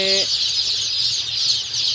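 Dense, continuous high peeping from many Sonali super hybrid chicks fills a brooding area under tarpaulin and cloth, close and steady, with a short low hum at the start.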